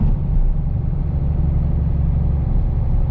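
A 1995 Dodge Ram 2500 pickup's turbo diesel engine with a five-speed manual transmission rumbles steadily, a low continuous drone heard close and without voices on a dry winter road in Minnesota.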